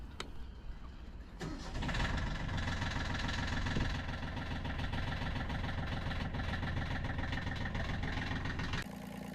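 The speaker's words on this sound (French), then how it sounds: "Démarrez votre moteur, vérifiez si celui-ci fonctionne correctement" A car engine cranks and catches at the start, then settles into a steady, loud idle after fuel system maintenance, running alone without talk until it cuts off near the end.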